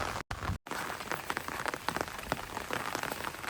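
Steady rain falling outdoors on the way to a hill with palm trees, a dense, close patter of drops hitting surfaces with no voices.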